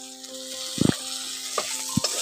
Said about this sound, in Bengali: টমেটোর বাটা দিয়ে একটু ভালো করে কষে নিচ্ছি